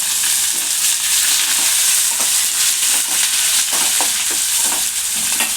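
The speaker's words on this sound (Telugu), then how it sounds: "ఇది మంచిగా బ్రౌన్ కలర్ వచ్చేంత వరకు వేగాలండి." Onions and green chilies frying in a pan, heard as a loud, continuous sizzle close up, with occasional stirring scrapes and no voices.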